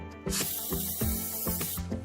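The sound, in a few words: spraying olive oil onto chicken tenders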